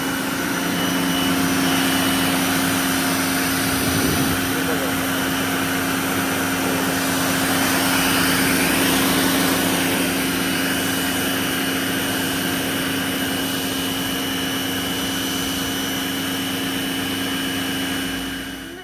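A wheeled pressure washer runs steadily and loudly for the whole stretch, a constant motor whine with broad hissing spray noise and no pauses.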